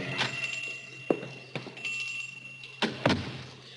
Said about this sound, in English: he pushes open the door and goes in.